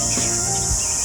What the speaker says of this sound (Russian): Цикады.